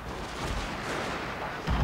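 Artillery fire on a Total War: Shogun 2 Fall of the Samurai battlefield: a continuous, moderately loud rumble of distant cannon fire, swelling into a heavier boom at the very end.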